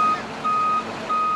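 Articulated heavy trucks passing through Cali at night, a loud reversing alarm sounding in three steady beeps over engine rumble.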